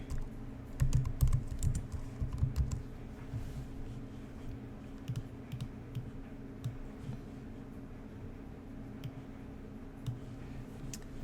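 Typing on a computer keyboard while entering text for a Silhouette Mint stamp design, producing quick, steady clicking keystrokes at close range over a low background hum.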